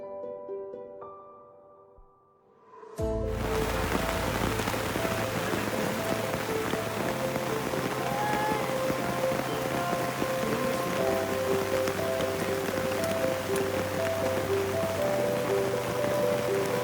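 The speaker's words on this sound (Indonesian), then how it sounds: "Hujan pun sudah mulai turun." Rain starts suddenly on a muddy mountain trail on Mount Merbabu via the Suwanting route, a steady, loud hiss of drops on the surface that continues unbroken after a brief quiet moment.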